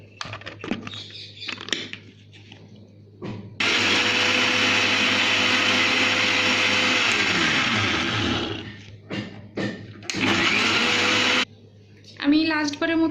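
A blender whirs through homemade mayonnaise with oil in a long, loud, steady run that winds down in pitch, then a shorter second burst follows, with quieter kitchen handling before and between.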